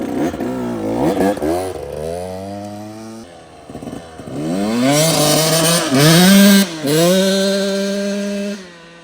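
A Lectron Billetron Mini carburetor-equipped pit bike engine screams at full throttle, pitch climbing and dipping through several revs, loud and close with no talking.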